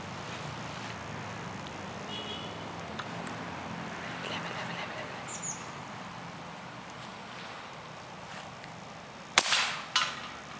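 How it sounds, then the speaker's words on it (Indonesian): A rifle fired at a long-range target gives a single sharp, loud crack near the end, followed by a quick echoing second burst, after a stretch of outdoor background noise. "Mari kita menembak."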